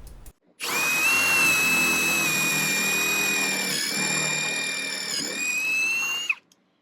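Power drill driving pocket screws into wood while a louver door is built into a privacy screen; one loud, steady high whine runs for about five and a half seconds, dips briefly twice, then cuts off.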